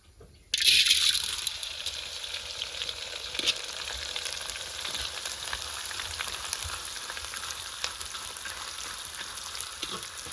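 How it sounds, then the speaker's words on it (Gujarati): Edible gum (gundar) frying in hot ghee for gundar pak, a loud steady sizzle and crackle that bursts in suddenly after a brief quiet start and keeps bubbling evenly to the end. "ઘી છે ને ગરમ થઈ ગયું છે તો આપણે એને તળવાનું છે ગુંદર"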